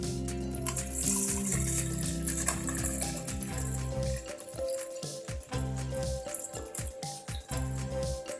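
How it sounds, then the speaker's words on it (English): Water is poured into the reservoir of an Oster 12-cup coffee maker, a splashing, gurgling trickle close by with hollow rattles from the plastic, the flow changing pitch as it fills. "Fill the water reservoir."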